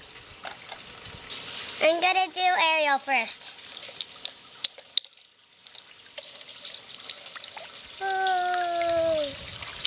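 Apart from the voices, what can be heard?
water trickling from Disney princess pool play set waterfalls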